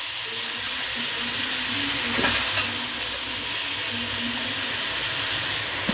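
Chicken sizzling in masala in a pan for Chettinad chicken gravy, a steady close frying hiss throughout with a brief louder surge midway.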